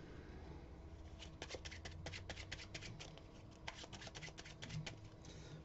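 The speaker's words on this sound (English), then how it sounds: "Shuffle the pack up and I'll take the joker." Playing cards are shuffled with quick, crisp riffles and flicks at close range, in a quiet room with no talking.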